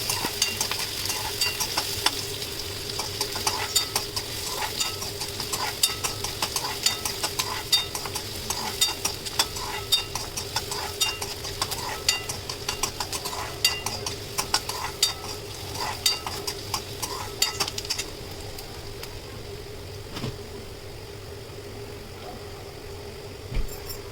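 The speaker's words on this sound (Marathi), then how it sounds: "कांदा चांगला परतून घ्यायचा आहे" Onion sautéing in a pan on the stove, a continuous close sizzle with stirring noises throughout, easing off and quieter toward the end, with a steady background hum and no voices.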